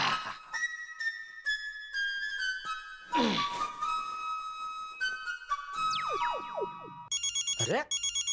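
A telephone rings repeatedly in a bedroom at bedtime in the Taarak Mehta Ka Ooltah Chashmah sitcom, bright electronic ringtone bursts and warbling tones, loud and alone without talk.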